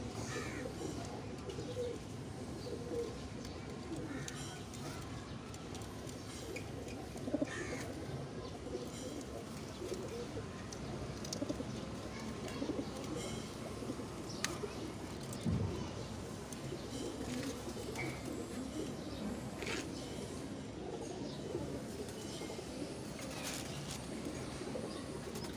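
Pigeons in a loft coo repeatedly in low, soft, rolling calls that overlap steadily against a busy outdoor background, with a few louder coos standing out near the middle.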